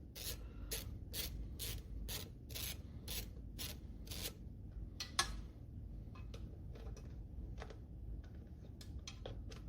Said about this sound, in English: Snap on 10mm with extension